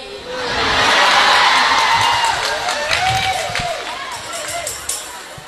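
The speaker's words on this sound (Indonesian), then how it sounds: "Nyapa kok tepuk tangan?" Children clap their hands together in a lively group, a noisy burst of clapping that swells and then fades, mixed with excited young voices calling and chattering over it.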